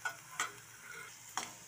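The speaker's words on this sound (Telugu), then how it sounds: "ఇంకొంచెం వేయించుకుందాం మనం." An eggplant and green chilli curry frying in a pan, with a soft sizzle beneath two or three quick scraping stirs from a spatula, heard close and quiet, with no voices.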